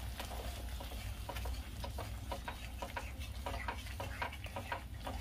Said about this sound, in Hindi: दही डालने के बाद चलाते रहना चाहिए, नहीं तो फटने का डर रहता है